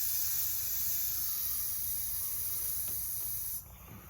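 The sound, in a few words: air hissing out of a deflating bike tire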